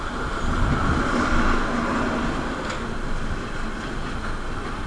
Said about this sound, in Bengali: এই দেখো ট্রেন আসছে